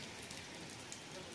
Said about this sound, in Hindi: आज मैं आपको थोड़ी सी ये बारिश दिखाने लगी हूँ।